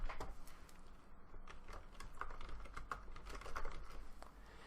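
Keys clatter on a computer keyboard as a password is typed, a close, steady run of light clicks with a few sharper taps, and no voices.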